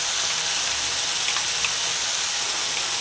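Green chilli and garlic paste goes into chicken frying in a pan, producing a loud, even sizzling hiss that runs unbroken and close throughout.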